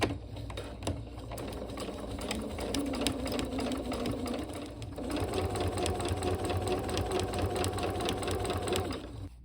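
A sewing machine steadily stitches cotton strips for a tote bag, giving one continuous, close run of fast, even mechanical chatter with no pauses or voices.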